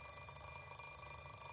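An alarm clock rings faintly in the visual novel game Fate/Stay Night, a thin high electronic tone held steadily over a soft background hum.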